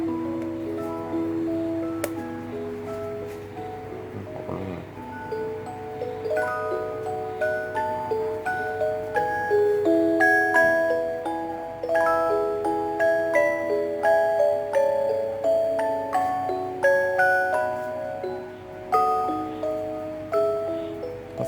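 A chiming electronic melody from a school bell timer rings out through an amplifier and speaker, bright tones stepping up and down in a steady tune with a low hum underneath.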